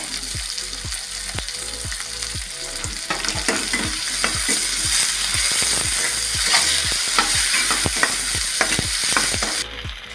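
Ingredients for puri masala sauté in a pan until golden without burning, a steady sizzle with regular, rhythmic spoon scrapes as they are stirred, close and alone.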